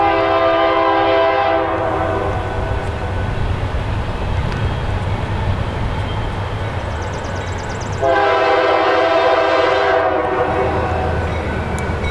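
A train rumbles past near Reading, Pennsylvania, sounding two long loud horn blasts separated by several seconds of steady rolling noise and wheel clatter.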